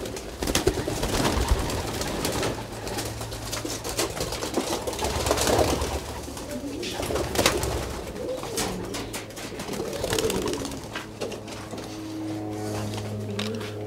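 Racing pigeons coo steadily inside a loft, several birds overlapping in low rolling calls throughout, with a faint mechanical hum underneath and no talking.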